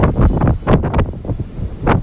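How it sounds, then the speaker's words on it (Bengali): Strong wind buffets the microphone on an open rooftop under cloudy, stormy skies, with loud rumbling gusts that swell and ease over two seconds. "আমার লুঙ্গি টুঙ্গি সব উড়ে যাচ্ছে বাতাসে"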